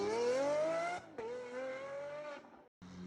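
A Lamborghini Aventador SV exhaust revs hard in a street, a loud, rising engine howl that drops briefly, climbs again and then cuts off abruptly before roaring back.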